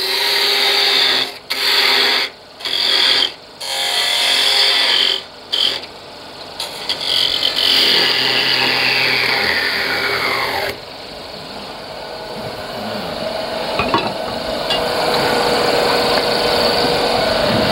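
A lathe gouge takes a peeling cut into spinning wood while turning a tray, a loud whirring scrape broken by short pauses early on, then a long continuous smoother cutting hiss.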